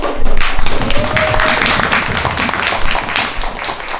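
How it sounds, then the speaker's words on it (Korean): Seated audience at a library film talk event for the movie Dolmengi clapping, with loud close taps and thuds over a steady bed of applause in a hall. "먼저 착석하신 상태에서 박수를 큰 박수를 한번 드려주세요."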